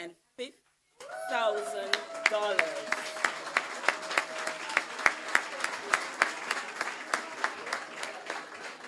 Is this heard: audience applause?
yes